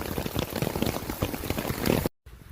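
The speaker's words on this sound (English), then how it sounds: "Pretty good size hailstones." Large hailstones rain down in a summer hailstorm in rural Mongolia, a thick, continuous clatter of impacts that cuts off abruptly near the end, no talking.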